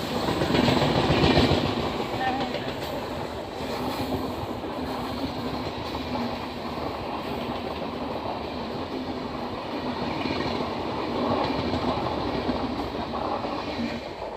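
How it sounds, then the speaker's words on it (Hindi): The Secunderabad–Guntur Express train rolls past close by with a steady rumbling roar and rhythmic wheel clatter, loudest at the start and continuing throughout. "सिकंदराबाद गुंटूर एक्सप्रेस।"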